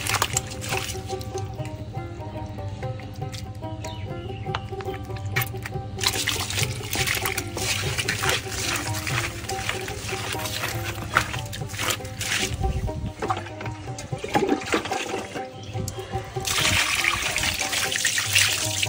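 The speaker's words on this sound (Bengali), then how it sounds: "মাছটাকে ধুতে ধুতে একবার সুন্দর মতন পরিষ্কার করে নেবেন।" Water runs steadily from a tap while fish are washed clean in a kitchen, a continuous trickling and splashing that swells louder in bursts, with faint clatter and handling noises.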